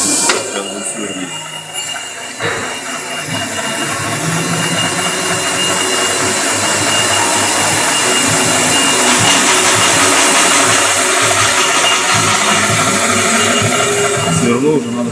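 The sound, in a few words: milling machine drilling 2 mm hole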